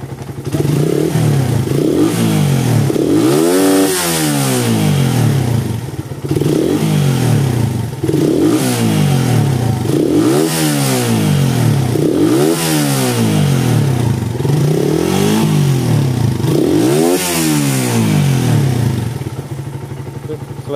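At a motorcycle repair shop during a service, a motorcycle engine is revved over and over, each surge climbing and falling back to idle in a steady repeating cycle, loud and close, with no talking.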